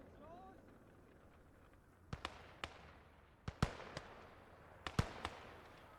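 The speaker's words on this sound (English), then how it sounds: "Mortar's still coming in." Mortar shells landing in the World War II game Gates of Hell, a run of sharp, loud impacts in quick clusters, some doubled, over a low battlefield rumble.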